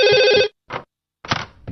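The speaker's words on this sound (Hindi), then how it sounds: "इस फोन को भी अभी बजना था।" A telephone rings in a cartoon scene: a steady electronic trill, then shorter bursts after a pause, heard alone with no talking.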